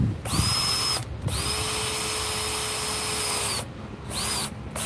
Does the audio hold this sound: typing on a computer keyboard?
no